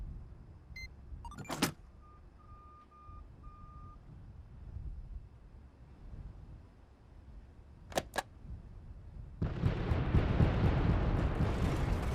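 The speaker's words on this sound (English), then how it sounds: "you can push the detonator button to blow the explosives" Explosives set off by a detonator button in the mining engineer video game, a few sharp beeps and clicks followed by a long, loud rumbling blast that keeps roaring to the end.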